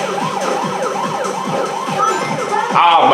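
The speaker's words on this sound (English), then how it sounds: "Oh my god, that police car really screwed me up." Police car siren in a racing video game, a loud rapidly wailing yelp cycling repeatedly close by, joined near the end by a harsher burst of engine or crash noise.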